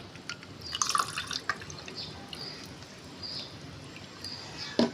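Water is poured into falsa sharbat in a glass, giving faint, close trickling and dripping sounds in a quiet kitchen.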